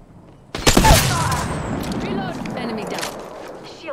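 Gunfire erupts in Apex Legends, a burst of loud close shots followed by a ringing, rumbling tail and mechanical clatter, with speech mixed in.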